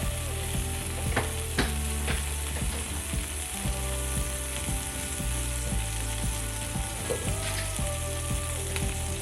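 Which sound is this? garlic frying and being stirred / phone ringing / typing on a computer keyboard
garlic frying and being stirred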